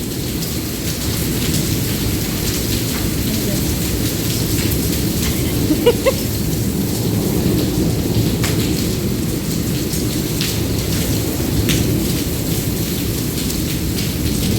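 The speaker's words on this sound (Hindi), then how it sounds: "अब इतनी दूर दूर गिर रहे हैं और बारिश बहुत तेज़ है" Heavy rain mixed with falling hailstones pours steadily for the whole stretch, a dense, loud wash with faint occasional ticks and no talking.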